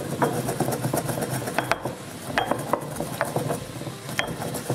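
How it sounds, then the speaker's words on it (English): Whole spice seeds being ground for chili con carne: a busy run of close mechanical clicks and ratcheting crunches in an uneven rhythm, with a few sharper snaps standing out. "I'm going to grind it, and then we're going to put it in the chili."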